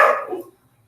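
A single short bark from an excitable pet dog indoors, loud at first and quickly fading to quiet.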